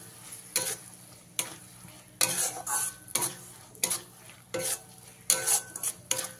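Tomato paste is sautéed in a pan for a Bengali pointed gourd korma, with a soft background sizzle broken by repeated scraping bursts and clinks as a spatula is pushed around the pan about once a second.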